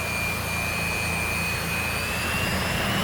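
A Su-27 jet engine held at full throttle in the DCS World flight game, a loud steady roar with a rising whine, continuous and alone.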